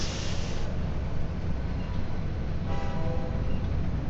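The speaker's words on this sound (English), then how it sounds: "so I knew we would have a train coming in" A train pulls into a station in the rail-management game Railway Empire 2, with a steady rumbling roll and a sustained horn-like tone that rises partway through, moderately loud and without talk.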